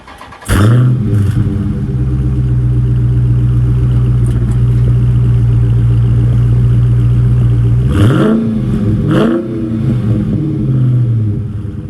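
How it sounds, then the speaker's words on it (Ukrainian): A Dodge Challenger 6.4 Scat Pack V8 starts with a sharp bark, then settles into a loud, steady rumble before two hard throttle blips rise and fall near the end, with no voices. "Окремої уваги вашої заслуговує симфонія вихлопу цього скетпак, яка мимоволі змушує усмішку з'являтися на вашому обличчі."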